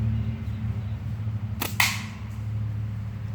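A slingshot with a long draw is shot once outdoors, a sharp snap followed by a brief swishing release, fairly close and alone over a steady low hum.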